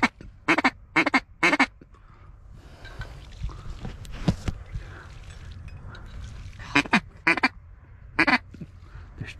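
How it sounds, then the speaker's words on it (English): Several bursts of loud mallard quacking from drakes and a hen come in quick clusters, with quieter wing and splashing noise in between, close by and outdoors. "There's two drakes and a hen."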